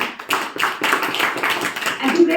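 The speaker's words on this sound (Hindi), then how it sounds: "ओके, अपनी ताली अपने आप बजा लो।" Audience at a Brahma Kumaris spiritual class claps hands together in a fairly steady, moderately loud burst of overlapping claps lasting a couple of seconds.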